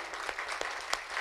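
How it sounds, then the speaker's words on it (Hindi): Audience applause at an open-air Hindi poetry recital at a kavi sammelan in a village, a steady broadband patter of clapping with a few sharper claps standing out, moderately loud throughout. "तालियां कमजोर हैं"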